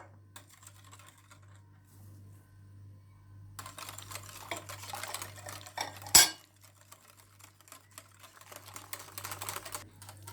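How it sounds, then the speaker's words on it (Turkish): A spoon clinks and scrapes against a bowl as milk and cocoa are stirred into a cake batter, with irregular close tapping and clatter, one sharp knock midway, over a low steady hum. "Sütümüzü ekleyip karıştırdıktan sonra kakaomuzu ekliyoruz."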